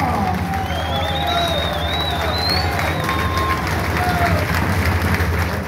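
A political party crowd applauds the new provincial president in Buenos Aires, a loud, continuous wash of clapping and cheering with crowd babble and some shouted or whistled tones above it.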